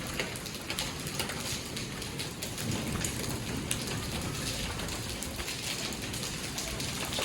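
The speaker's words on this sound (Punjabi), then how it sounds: "ਹੁਣ ਰੱਬ ਨੇ ਮੀਂਹ ਪਾਤਾ ਆ ਗਿਆ ਗੜੇ ਪਈ ਜਾਂਦੇ ਹੈਗੇ ਆ ਨਿੱਕੇ ਨਿੱਕੇ ਗੜੇ ਨੇ" Steady, dense small hailstones clatter and patter on a hard floor in Punjab's Malwa region, a continuous rattling downpour with no voices.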